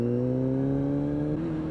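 A Kawasaki 636 sport motorcycle engine drones steadily and loudly, its pitch rising slowly as the bike runs at speed, with constant wind rush and no talk.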